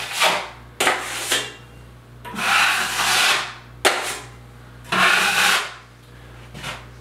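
A blade scrapes and swipes drywall mud thinly across a wall in a series of separate rough strokes, each a broad rasping sweep with short pauses between, close by and without talking.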